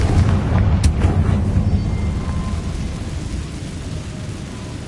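A Confringo blasting curse explodes in Hogwarts Legacy, a loud, sustained roaring boom with a sharp crack near the start, its rumble slowly fading over several seconds.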